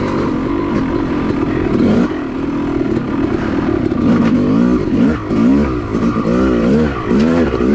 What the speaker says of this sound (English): Kept the bike going down the trail.